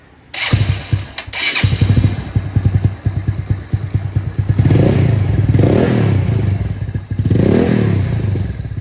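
A Yamaha Mio 130cc motorcycle engine, freshly fitted with a BRT camshaft, clatters to life and runs steadily up close, then is revved in three swelling bursts.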